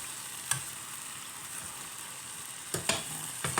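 Vegetables stir-fried with egg in a pan give a steady, soft sizzle with a few sharp clinks of a utensil against the pan.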